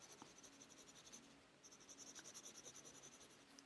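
A pen inks a manga drawing, filling areas solid black with quick, rhythmic back-and-forth scratching strokes close to the paper, pausing briefly midway before resuming.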